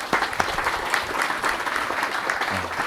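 Steady audience applause fills a conference hall after a round-table presentation on water and territories, a dense continuous clatter of many hands clapping at close range with no talk over it.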